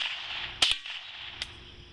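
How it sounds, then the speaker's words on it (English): Two sharp cracks from a Savage Model 64 .22LR semi-automatic rifle fired at a close steel target, each followed by a brief ring, over a steady outdoor hiss. "Normally wouldn't advise shooting at steel this close"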